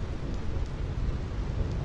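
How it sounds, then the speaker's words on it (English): Thunder rolls during a rainstorm in Final Fantasy X, a steady wash of rain and low rumble with no distinct crack. "I hate lightning. I hate thunder."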